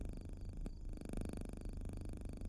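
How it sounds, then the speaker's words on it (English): A low, continuous purring rumble fills the space, with a steady pulsing texture and one brief click partway through, heard close during a long road trip. "Is that some kind of cat purring?"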